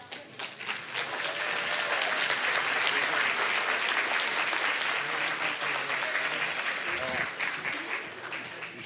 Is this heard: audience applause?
yes